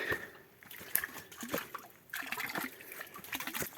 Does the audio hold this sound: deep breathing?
no